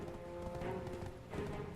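Horse hooves clip-clop in a quick, steady rhythm in Black Desert Online, moderately quiet and continuous across the short stretch, with a faint tonal drone underneath.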